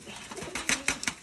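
Rajshahi Giribaz pigeons kept at a house, giving a brief, faint flurry of soft coos and fluttery wing sounds over a second or so.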